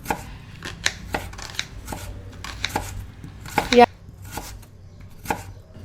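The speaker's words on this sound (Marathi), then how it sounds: "मी भाजीसाठी आता कांदा बारीक चिरून घेणार आहे" An onion is finely chopped with a knife on a board, a quick series of close, sharp taps in uneven bursts with one louder clatter near the end, with no voices.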